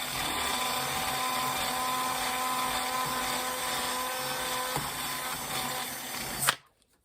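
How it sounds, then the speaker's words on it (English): A small rotary tool reams out a rod hole in a plastic skeleton prop, giving a steady high-pitched whine with a thin buzzing drone that runs continuously before cutting off abruptly near the end. "I'm going to ream that hole out just a little bit more because it needs to ride really smooth."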